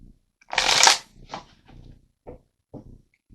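Tarot cards being shuffled, one loud riffling burst up close followed by several quieter taps and card handling sounds.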